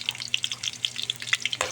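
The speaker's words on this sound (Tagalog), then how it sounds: "Igisa na namin ang ugat sa gabi guys. Yan, prito na." Taro roots fry in a pan with a steady crackling sizzle and scattered sharp pops, heard close and alone without talk.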